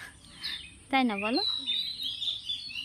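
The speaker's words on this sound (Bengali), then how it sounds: "ওই পাখিটা মনে হচ্ছে যেন শীষ দিচ্ছে" A bird gives a sweet whistling call outdoors, one descending run of clear notes over background birdsong, while someone speaks briefly nearby.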